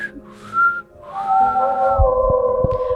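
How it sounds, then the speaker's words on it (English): A faint whistle drifts through pine woods with rustling, a wavering tonal line rising and holding over soft background noise, joined later by a few low thuds. "Christopher, rustling pines, and a faint whistle."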